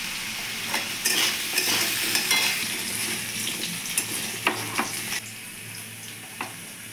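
Potatoes seasoned with turmeric and salt frying in a pan, with a steady close sizzle and a few sharp utensil scrapes and clinks as they are stirred, no talking.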